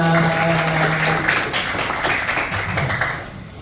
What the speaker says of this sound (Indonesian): tepuk tangan untuk Gara